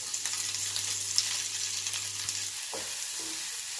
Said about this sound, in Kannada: ಇದನ್ನು ಸ್ವಲ್ಪ ಹೊತ್ತು ಫ್ರೈ ಮಾಡಿಕೊಂಡು